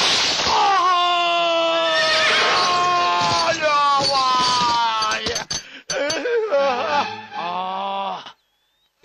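A horse whinnies loudly and at length with a shaking, descending call, followed by shorter neighs and snorts near the end, in a Tamil comedy scene.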